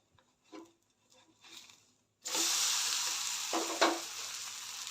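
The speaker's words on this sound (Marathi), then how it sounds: "आता मी हे उलटून घेते बघा तज तेल लावून घेतल्यामुळे सहज निघतो" A rava uttapam is flipped on an oiled pan, with a few soft scraping touches before it, then a steady close sizzle of frying that continues with a couple of clicks of the spatula.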